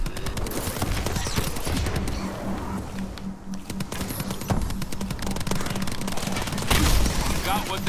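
Rapid gunfire from the Call of Duty Advanced Warfare Exo Zombies mode rattles in dense bursts across the whole stretch, with a louder burst near the end and a player's voice talking over it.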